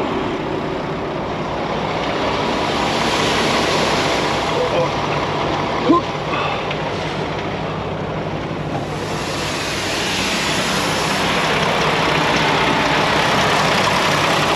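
A close truck engine idles with a steady, unbroken rumble and hiss that barely changes over its whole length.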